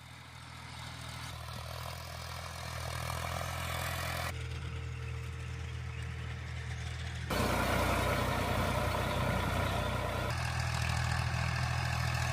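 A tractor ploughing summer fields after rain in Tamil Nadu, its engine droning steadily and loudly throughout, growing heavier partway through, with no voices.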